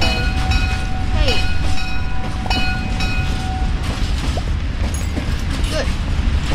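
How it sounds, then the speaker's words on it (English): A tram in the Roblox Mad City video game rumbles past with a steady, loud mechanical rolling noise and faint squeals, continuous throughout, with no talk over it. "This ain't scam tram. This tram is good."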